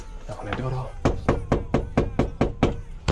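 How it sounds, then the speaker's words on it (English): Knocking on a door during a grocery delivery drop-off, a quick run of about eight firm, evenly spaced raps, close and loud, after a brief stretch of talk. "Knock on that door though."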